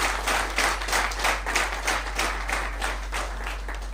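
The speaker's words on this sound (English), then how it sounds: "A big round of applause." An audience at an international scientific computing conference breaks into a round of applause, a full, pulsing roll of many hands clapping together that holds steady for several seconds.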